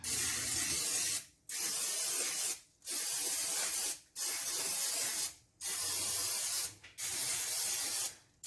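Cooking spray hisses into a muffin tin in six steady bursts of about a second each, separated by short pauses, close and clear with no talking.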